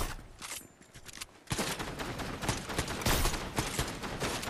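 Rapid gunfire in Fortnite, dense overlapping shots that start lighter and swell into a loud, sustained barrage of cracks after the first second and a half.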